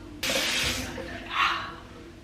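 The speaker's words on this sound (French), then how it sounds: "je nettoie mon visage et je rince ensuite" Water runs from a tap during a face rinse in a home bathroom, starting abruptly as a steady broadband rush and swelling briefly near the end, close and fairly loud, with no talk.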